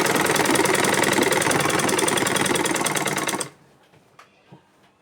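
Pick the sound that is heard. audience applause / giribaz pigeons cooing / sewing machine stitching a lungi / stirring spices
sewing machine stitching a lungi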